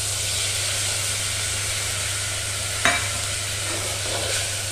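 Masala paste frying in a pan for besan gatte curry, a steady sizzling hiss over a low hum, with one brief scrape or tap partway through.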